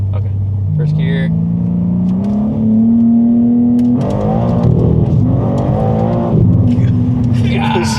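A tuned BMW G80 M3 making around 750 wheel horsepower pulls hard in first gear with anti-lag, its engine note climbing in rising sweeps with abrupt drops and pops, heard loud from inside the car.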